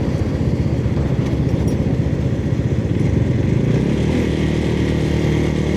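A 250cc motorcycle, about 233cc in practice, carries its rider along, its engine droning steadily and loudly throughout with wind rush and no pauses.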